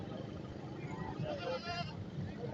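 Goats bleat at a livestock market in Korangi, with a male and female pair and young kids on sale. The calls come out of a busy background and carry over steady crowd noise and murmuring voices.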